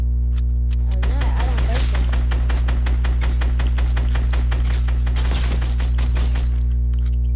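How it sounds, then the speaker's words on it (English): Rapid shotgun blasts fire in a steady stream of sharp, loud bursts during online video game play, with a constant low hum underneath and a voice talking over the shots. "That's because you're using a new shotgun."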